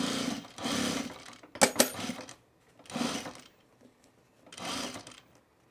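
Domestic sewing machine stitching a 5/8 seam on a baby bag, short bursts of motor whirring separated by pauses, with a brief clatter in between.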